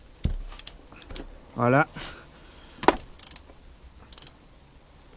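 A socket ratchet on a 27 mm socket loosens the oil filter on a Renault Espace V dCi, giving a short burst of rapid clicking midway, set among scattered metallic clanks and taps, with a brief spoken word.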